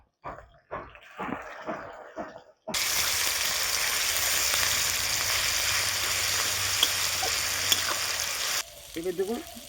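Ground coriander-fennel spice paste hits a hot pan of oil with green chilies, bay leaves and five-spice, launching a loud, steady close sizzle that lasts several seconds, with a person speaking just before and after.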